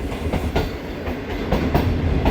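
The Shalimar Express rolls into Bahawalpur railway station with a steady loud rumble and a rhythmic clickety-clack of wheels over rail joints, close by and without any talk.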